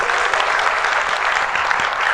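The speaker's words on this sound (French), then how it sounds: "Applaudissements" Audience applause at a live talk event, a steady, dense clapping from a crowd throughout, fairly close and even in loudness.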